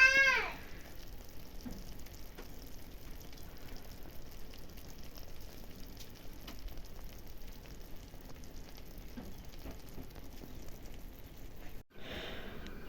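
Steady soft sizzling and bubbling of hot fat from oven-roasted drumsticks just pulled out, a continuous crackling hiss that runs evenly throughout, fairly close and moderately quiet.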